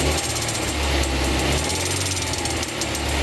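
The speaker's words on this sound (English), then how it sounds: "Let's rev her up a little bit and see how it changes." A turbocharged Chrysler LeBaron GTC engine revs up steadily, a loud, continuous mechanical drone with constant vibration and no pauses, captured up close during repair work on an alternator fault.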